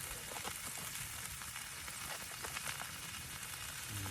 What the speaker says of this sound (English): we'll just chop them up and stick them in the pan in a minute.